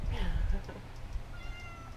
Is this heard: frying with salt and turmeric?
no